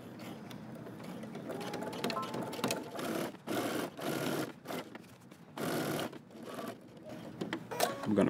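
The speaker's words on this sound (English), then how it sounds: "first we're going to start along the slanted side and we're going to edge stitch" A sewing machine edge stitches along the slanted seam of a Simplicity 8615 jumpsuit in short close bursts, stopping and starting with brief gaps between runs.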